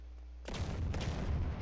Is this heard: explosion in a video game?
yes